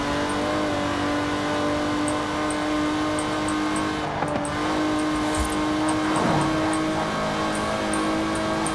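A game-rendered Aston Martin DB5 Vantage, a 1960s British grand tourer, runs steadily in Forza Horizon 4 with a sustained engine drone and a brief surge in revs, heard alone at a constant, fairly near level.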